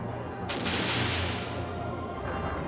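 A secondary ship cannon fires in the Skies of Arcadia Legends video game, a loud sustained artillery-like blast with a rumbling tail that fills the whole moment.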